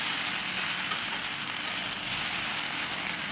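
Steady sizzling hiss of fresh Malabar spinach (pui shak) being lightly stirred with vegetables in a hot pan, continuous and even with no talking.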